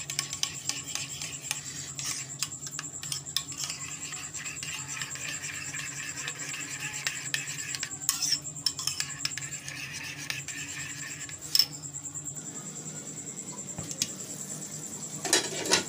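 A spoon scrapes and clinks against a pan while coriander powder and black pepper are mixed into chicken for white chicken karahi, with soft irregular scratching and a few sharper metallic taps over a faint background hum.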